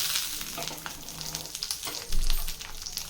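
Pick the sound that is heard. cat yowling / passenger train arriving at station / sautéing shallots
sautéing shallots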